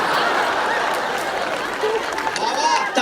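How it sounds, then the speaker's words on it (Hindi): An audience at a comedy poetry show applauds in a short, moderately loud burst of clapping that thins out, with talk over it. "तालियां कम रह गई थोड़ी सी आपकी"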